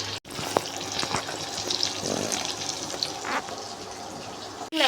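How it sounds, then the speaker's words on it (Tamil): Fish fries in hot oil with a continuous moderate sizzle, accompanied by a few scraping clicks as the pieces are turned. "நல்லா பொரிஞ்சுக்கிட்டு இருக்கு"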